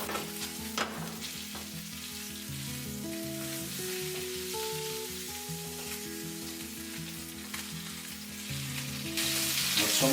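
A salmon fillet frying in a pan gives a steady sizzle under a music backing that carries on throughout, growing slightly louder toward the end.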